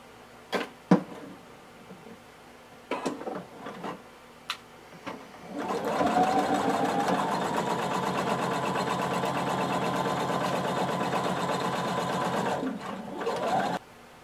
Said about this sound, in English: we're going to sew through all layers from one end to the other using 3/8 of an inch seam allowance